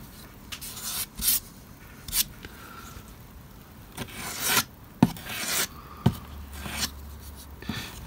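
A tool spreads a skim of filler across a model road surface on an OO gauge model railway layout, giving short scraping and rubbing strokes at uneven intervals, close and fairly crisp, with no voices.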